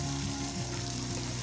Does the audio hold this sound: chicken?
no